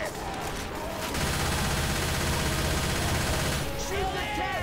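Sustained automatic gunfire aimed at the Tank in Left 4 Dead 2, a dense continuous rattle of shots in the thick of a fight, with voices calling out in the middle of the shooting.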